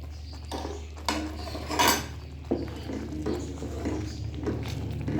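Spoon scrapes and clinks against a pot as khoya kheer flavoured with a few drops of kewra is stirred, with a low steady hum under several sharper knocks and scrapes.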